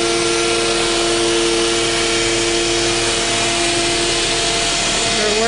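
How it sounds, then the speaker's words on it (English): A directional drilling rig at a fracking site runs in a loud, constant mechanical roar with steady tonal hums and no breaks. "He's directional drilling. He's pumping this out through the drilling."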